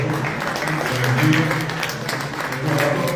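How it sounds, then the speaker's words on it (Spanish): Steady applause from a crowd fills the clip, a dense wash of clapping that swells slightly midway, with some voices mixed in. "un aplauso para el Burgos"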